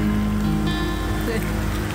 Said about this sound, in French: on ne peut pas aller à certains endroits parce qu'il pleut beaucoup